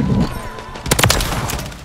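Gunfire in a Modern Warfare 3 multiplayer match: a loud cluster of sharp shots hits partway through, after a stretch of background game noise, with sharp bangs and a following rumble.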